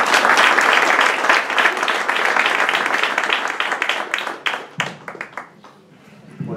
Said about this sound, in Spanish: Con esto un aplauso